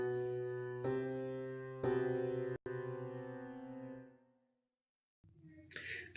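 Two separate sustained musical notes, B then C, each sounding alone with clear decaying harmonics, followed by both struck together as one dissonant chord that fades out, with a brief soft noise near the end.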